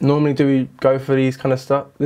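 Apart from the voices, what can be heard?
None of the usual background noises is heard.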